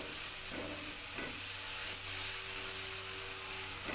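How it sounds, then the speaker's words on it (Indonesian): Spice paste sizzling loudly as it is stir-fried in a pan, a continuous bright hiss with a few soft stirring scrapes, no voices. "Tumis bumbu hingga matang dan harus benar-benar matang supaya enggak langu."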